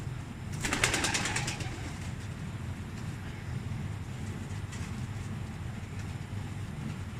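Pigeon cooing with a brief flutter of wings near the start, followed by a steady low rumble of background noise.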